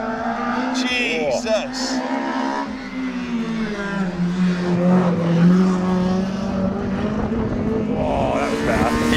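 A K20-swapped Ford Fusion time attack car screams through a flying lap, its high engine note climbing and falling through gear changes and holding steady at a loud, close pitch. An excited voice exclaims over it.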